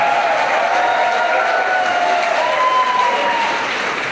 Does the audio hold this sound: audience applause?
yes